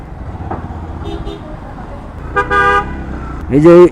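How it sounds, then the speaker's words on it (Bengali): A car horn honks from a vehicle behind on a rough, busy road, two short blasts with the second louder and closer, over traffic rumble and an earlier faint beep. "এই যে হর্নটা দিল না, ওই কিন্তু ইচ্ছে করে দিছে এই হর্নটা।"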